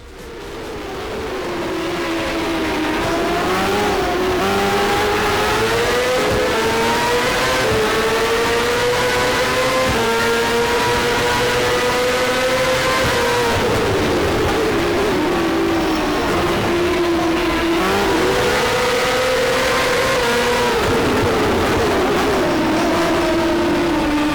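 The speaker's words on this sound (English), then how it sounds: "The sounds do their job of letting you know what is going on with the car." A racing video game car engine roars continuously, its pitch climbing and dropping through gear shifts, loud and close with no talking.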